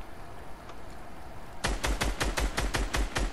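Rapid automatic gunfire in Fortnite: after a quiet stretch, a loud, evenly spaced burst of about nine close shots rattles out to the end.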